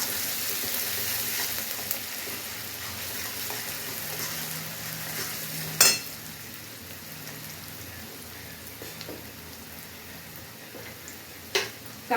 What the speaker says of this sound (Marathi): आता लसूण टाकून घेऊया आणि लगेचच कांदा टाकू